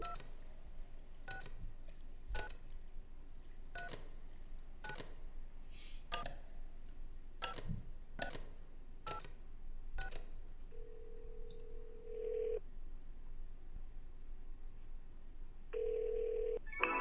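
Phone keypad tones in the video game Kentucky Route Zero: about a dozen short dialing beeps spaced roughly a second apart, followed by two longer steady tones, clear over a quiet background hum.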